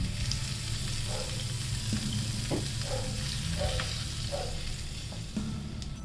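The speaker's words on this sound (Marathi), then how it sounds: "थोडासा हिंग तडका या चटणीला देऊया" Asafoetida tadka poured over South Indian style chutney, giving a steady close sizzle and frying hiss with a few soft stirring clinks throughout.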